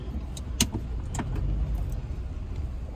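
A Honda City and a Mahindra XUV300 idle and roll up together before a drag race, a low engine rumble close by with a few sharp clicks and knocks over it.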